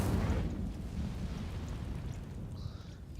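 In the Hogwarts Legacy video game, the Incendio fire spell ignites dry vines with a deep, rumbling whoosh of flame that starts loud and then settles into a steady roar of burning over about three seconds.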